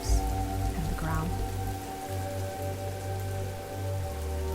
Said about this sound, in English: The rain increases. It's falling steadily now, a soothing rhythm.